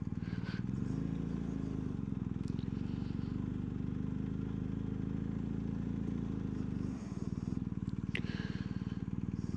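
A motorcycle engine runs with a steady low rumble, close and continuous while riding along, with a short dip near the end and faint clatter above it.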